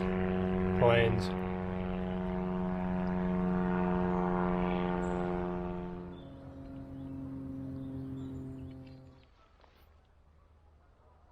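Propeller airplane droning overhead during a countryside hike, a strong tonal hum that holds steady and then fades away as the aircraft passes, with a brief voice near the start.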